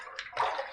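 Water splashes briefly during a rinse after shaving with an Edwin Jagger safety razor, a short close-up burst of running and sloshing water.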